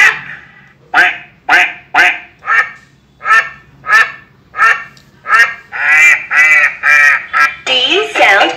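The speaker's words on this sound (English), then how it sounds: "D for duck." A learning pen toy plays a loud, close duck quacking as a run of about a dozen evenly spaced quacks, which grow denser and blur together toward the end.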